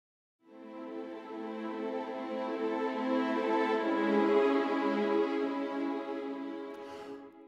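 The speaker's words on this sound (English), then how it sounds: "What you heard there were the violins and the violas playing the exact same chords." Violins and violas play the same sustained string chords together in a modern scoring ostinato, swelling in after a brief silence, holding a full bowed sound, then fading at the end, with no voices.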